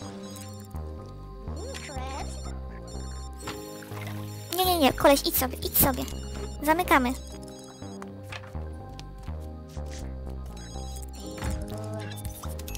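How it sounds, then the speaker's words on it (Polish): A telephone rings repeatedly inside a restaurant in The Sims 2, its electronic trill sounding in several bursts under continuous talk from a speaker, with brief game effects in between. "Odbierz ten telefon, to mnie denerwuje."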